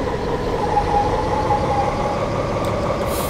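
Train braking in Train Simulator 2018, a steady broadband rumble of rolling wheels and rail with a faint high squeal of brakes running throughout, continuous and fairly loud with no talk.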